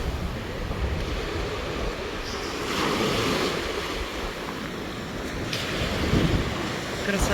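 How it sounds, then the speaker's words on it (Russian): Rough southern sea surf crashes and rolls in squally wind, a loud continuous roar of breaking waves with heavy wind buffeting the microphone and surges swelling and fading throughout. "Морюшка волнуется."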